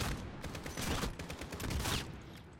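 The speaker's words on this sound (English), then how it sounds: "Sounds like a shotgun." Rapid gunfire crackles through a battle on the Highway of Death mission of Call of Duty: Modern Warfare, a dense burst of overlapping shots that stays fairly faint and distant.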